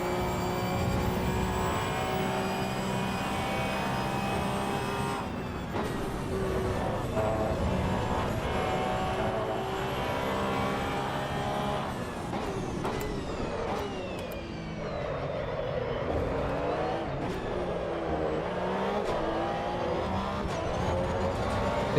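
A car lapping a track in the Assetto Corsa Evo racing game, its engine droning steadily with pitch sweeps that rise and fall through gear changes, heard close and alone without talk.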